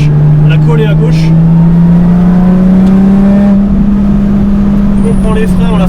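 Lotus Exige S accelerating on the Ledenon race track, a loud, steady engine drone rising gradually in pitch under full throttle, heard close from inside the car with brief background noise.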